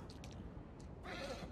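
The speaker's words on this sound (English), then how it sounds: "We have our horse Shimmer." Video game horse in The Last of Us Part 2, a brief neigh or whinny near the end of the clip over low rumbling game ambience.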